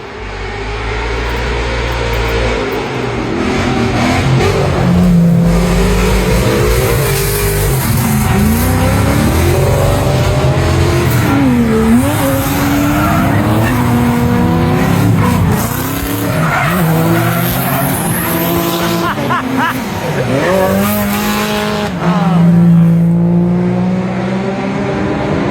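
Drift cars on a hill course at a drifting event, engines revving hard and tires squealing continuously, loud and close, with shifting engine pitch as the cars slide past.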